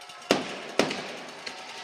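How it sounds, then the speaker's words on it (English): Fireworks go off at a high school football game after a touchdown: two sharp bangs about half a second apart, then a fainter third pop, over an open-air background. "There goes the fireworks."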